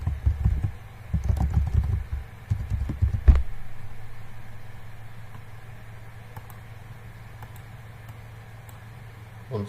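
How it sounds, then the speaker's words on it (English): Typing on a computer keyboard: a cluster of quick, close clicking keystrokes in irregular bursts, ending in a heavier tap, then a low steady hum continues almost alone. "You type your content"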